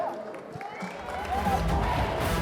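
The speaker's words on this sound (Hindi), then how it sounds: "जोरदार तालियां." A crowd applauding and cheering at a film trailer launch, with clapping and shouts that build and swell into a loud, dense roar toward the end.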